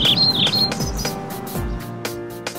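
Cheerful bird chirps and tweets ring out over a busy musical backing in a children's counting song, the calls bright and repeated in short phrases.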